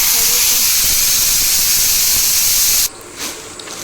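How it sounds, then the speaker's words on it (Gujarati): Steam hisses loudly and steadily from a pot of boiling mung beans, a dense spraying sound that cuts off abruptly near the end, leaving quieter clatter. "મેં મગ બાફવા મૂક્યા"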